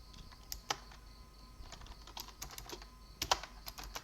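A computer keyboard is typed on at a desk in quiet, irregular clusters of crisp key clicks, with a few sharper taps standing out, close but soft and with no voice.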